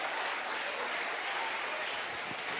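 A church congregation applauding during a service, a dense, steady wash of clapping heard from a short distance, even in level and without a break.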